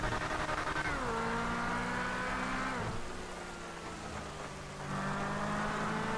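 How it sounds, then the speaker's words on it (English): A fast car speeding in the GTA 5 video game, its engine droning steadily and loud with pitch sweeps as it shifts and accelerates, holding up close throughout with no talk. "Driving a fast car, speeding like I'm crazy."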